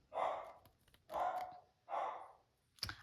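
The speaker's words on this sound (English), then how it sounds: "my dog's going crazy" A dog barks in three loud, close bursts about a second apart, ending with a short sharp yip or whimper, in an indoor home setting.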